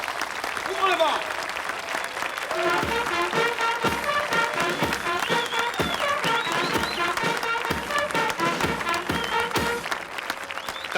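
Audience applause fills a formal medal ceremony where a special forces captain is decorated, steady clapping sustained throughout with a voice speaking over it.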